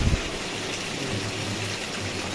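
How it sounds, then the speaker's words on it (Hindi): Rainwater pours off a village house roof in a steady, dense rush, a continuous close splashing wash that stays even throughout. "हमारे छत से पानी आ रहा है ऊपर से, ये देखिए छत से ऊपर से"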